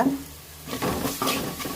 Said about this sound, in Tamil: ஆட் பண்ணி நல்லா வதக்கி விட்டுட்டு